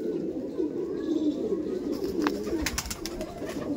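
Soft cooing of Andhra Madrasi pigeons murmurs low and steady through the clip, with a few brief clicks and rustles near the end.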